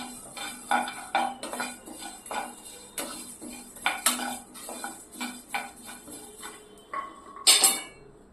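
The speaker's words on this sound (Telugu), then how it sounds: "ఇది మిక్సీ జార్లోకి వేసేస్తున్నాం." A spoon clinks and scrapes against a pan and a mixer jar as fried kalimi kaya (carissa berries) and vegetables are transferred for a Telugu chutney, giving close, irregular metallic taps and clatters.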